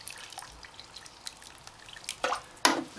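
Water dripping and splashing while tomato plants in grow bags are watered in a greenhouse, a few soft drips followed by two brief, louder splashes close by.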